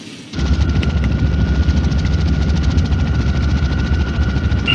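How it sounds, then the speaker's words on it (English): A large rescue helicopter hovers close to rock walls, its rotor thudding in a loud, steady, continuous drone that kicks in abruptly and holds throughout. "The pilot had to carefully maneuver the massive helicopter to keep the rotor blades from hitting the rock walls."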